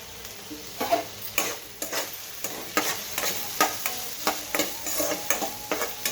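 Carrot and other vegetable pieces frying in oil while a utensil stirs them, a soft sizzle broken by regular scraping strokes about every half second, close and without voices.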